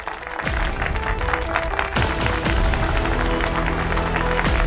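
Loud, continuous applause from an audience greeting a financial advisor called to the stage at an event, dense clapping with a few sharper bursts and no pause over several seconds.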